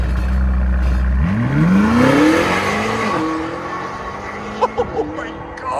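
A 2023 BMW XM with a 4.4L twin-turbo V8, X-pipe and Borla ATAK exhaust accelerating hard from a low idle, its loud roar climbing steadily in pitch through the gears, with a few brief pops near the end.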